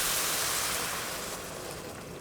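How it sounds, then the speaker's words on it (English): Chicken stock poured into a pot over onions and chili flakes for a spicy Korean chicken soup, a loud continuous splashing rush that eases off slightly toward the end. "and then pour the chicken stock"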